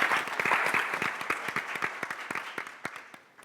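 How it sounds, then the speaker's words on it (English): Audience applause at a panel discussion on women-owned small businesses, a dense clapping wash that starts loud and gradually thins into scattered individual claps before fading out. "A round of applause to Nadia."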